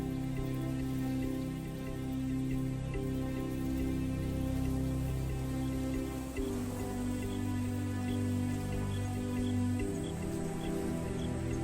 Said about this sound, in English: Playing in the rain, their spirits remain undampened.